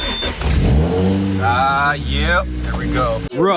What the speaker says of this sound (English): And now you can start the car. This is a push button start.